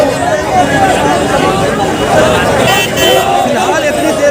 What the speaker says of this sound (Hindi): कितनी ज़्यादा भीड़ है।